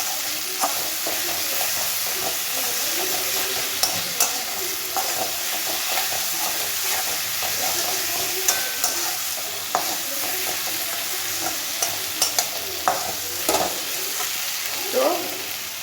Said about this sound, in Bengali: আবার আমরা ভালো করে এটাকে কষবো।